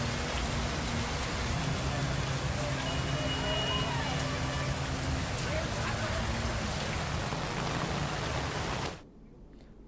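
Heavy monsoon rain pours down over Hyderabad in a dense, steady roar, continuous and loud, before it cuts off abruptly near the end.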